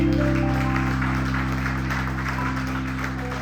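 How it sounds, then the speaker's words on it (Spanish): A church congregation claps in sustained applause to the Lord, a broad even wash of hands over a steady low hum of organ or keyboard chords, continuing evenly throughout. "un fuerte aplauso al Señor ahora sí"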